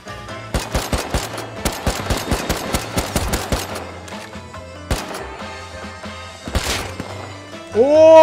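Rapid automatic gunfire in an online survival shooter game, with dense bursts of shots early on, then sparser single cracks and impacts, loud and close.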